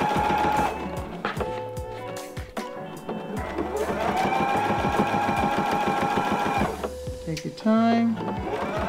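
A sewing machine stitches a large wristlet bag, running in steady sustained bursts with brief pauses and a short backstitch, while someone talks over the whirring motor close by.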